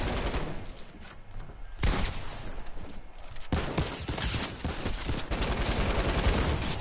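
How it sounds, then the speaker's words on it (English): Dense video-game gunfire, rapid bursts of shots and automatic fire packed close together, loud and continuous throughout with only brief shifts in intensity. "He's shooting at me!"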